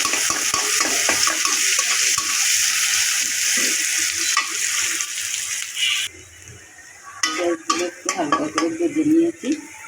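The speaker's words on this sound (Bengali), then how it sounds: "পেঁয়াজগুলো একটু হালকাভাবে ভেজে নেবো" Chopped onions fry in oil for a tengra fish and eggplant curry. A loud, continuous sizzle fills the first part, then it gives way to quieter clatter and scraping of a spoon against the pan.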